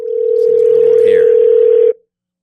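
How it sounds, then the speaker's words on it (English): A telephone dial tone hums as a call is placed on a podcast, one loud steady tone lasting about two seconds before cutting off abruptly, with faint background chatter beneath it. "We're going to call 6 right now on the phone."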